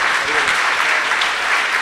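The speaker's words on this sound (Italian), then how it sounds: "soprattutto ancora un ultimo grande applauso per questa serata al professor Guidoni" Dense, loud audience applause at the close of a lecture evening with astronaut Umberto Guidoni, a steady wash of many hands clapping with no break.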